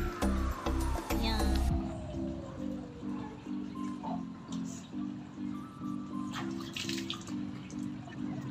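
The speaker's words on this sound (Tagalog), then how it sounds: "Ito yung tubig." Tap water runs steadily into a bath during a shower, a continuous close splashing stream with a rhythmic pulsing in the flow, preceded by a few brief clunks at the start.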